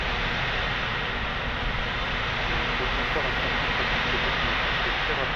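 A jet airliner in Microsoft Flight Simulator 2020 rolls down the runway at Toulouse on its takeoff run. A steady, loud, broadband engine roar fills the scene throughout, with a voice faintly underneath.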